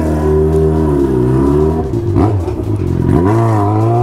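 Yamaha XJ6 motorcycle with the exhaust removed, straight pipe, revving loud and close: a deep rasping idle rises into sharp throttle blips, dips, then climbs again into a harsh, rattling roar.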